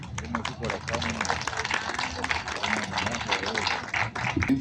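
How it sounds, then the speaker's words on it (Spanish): Applause from an audience welcoming speakers at a national comics festival in Peru, a busy, fairly loud stretch of clapping with voices mingling underneath. "los recibimos con un fuerte aplauso"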